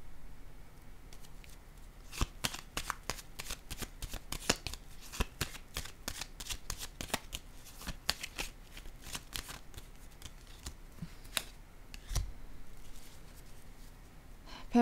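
Tarot cards handled, shuffled and laid down one after another, producing a steady run of crisp, close flicks and slaps with brief gaps and no speech.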